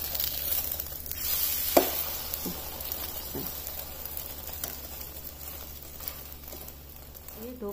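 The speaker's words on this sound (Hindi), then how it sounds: "अब अंडा फेंटने के बाद इस फ्राई पैन में डाल देना है इस तरह से" Beaten egg sizzling in a frying pan while a shami kabab paratha roll is made, a steady close hiss with a few soft stirring scrapes and clicks of the pan.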